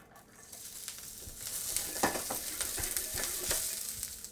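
Sugar snap peas sizzle in oil in a cast iron pan, a steady crackling fry with scattered sharp pops and spits, close and moderately loud, with no talking.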